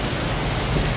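Heavy rain with large hailstones pounding down during an afternoon storm in Sonora, Mexico, a dense, steady roar of impacts with no pauses across the short stretch.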